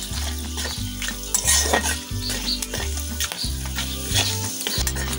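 Cardamom, cloves, bay leaf and a dried chilli fry in oil for vegetarian white pulao, a loud close sizzle broken by regular rhythmic scraping strokes of a spatula against the pan.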